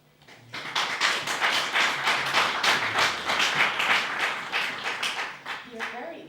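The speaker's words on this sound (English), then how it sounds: "You're very kind to clap" An audience at a poetry reading in Prague applauds with a dense patter of hands for about five seconds before it thins out and fades, followed by a brief voice.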